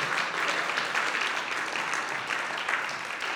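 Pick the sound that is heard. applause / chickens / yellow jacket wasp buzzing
applause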